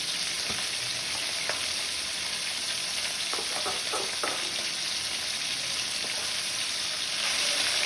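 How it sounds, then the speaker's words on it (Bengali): Pomfret fish, coated in crumbs, fries in hot oil with a loud, dense, continuous sizzle and a few brief spatters breaking through. There are no voices. "মাছটাকে একটু কড়া করে ভেজে নেবো"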